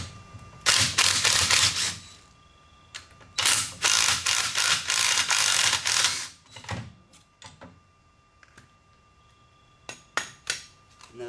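Ratcheting wrench loosening Loctite-coated bolts on the rear sets of a KTM RC390 motorcycle: two long bursts of rapid, close clicking, then scattered lighter clanks and a few short clicks.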